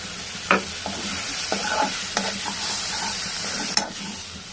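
Bottle gourd fry with chili powder is stirred in a pan: a steady close sizzle runs throughout, with several distinct scraping stir strokes spread across it and no talking.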